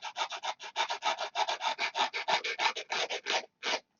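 Sandpaper rubs back and forth on a wooden part of a control line model aircraft, bringing a cut edge up to the line. The strokes are quick, rhythmic and close, with no one talking.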